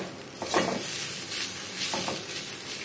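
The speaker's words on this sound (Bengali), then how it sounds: "এবার একটু লঙ্কা দিয়ে দেবো, হালকা হালকা এরকম ভাজি হচ্ছে হোক" Leafy greens and chili fry lightly in a pan, giving a soft, steady sizzle broken by a couple of stirring scrapes, close and fairly quiet, with no talking.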